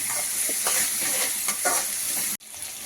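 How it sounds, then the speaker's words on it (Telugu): Onion and green chillies fry in a pan for a paneer curry, giving a steady sizzle with scraping stir strokes. The sound cuts off abruptly near the end. "ఇప్పుడు ఆనియన్ పచ్చిమిర్చి బాగా ఫ్రై అవుతుంది కదండి"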